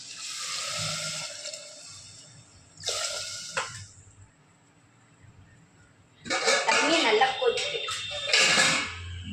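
Water pours into a cooking pot in short splashy bursts, first briefly, then a longer steady pour near the end, with quiet room noise between, measured out for cooking varagu (kodo millet) kichadi.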